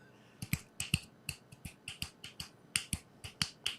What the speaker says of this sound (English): everyone's just snapping